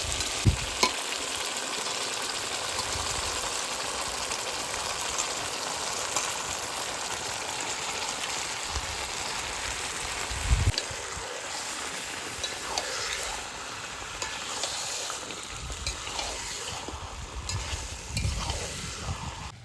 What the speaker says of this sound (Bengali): কষে দিয়েছে এবার মাংস দিয়ে দেবো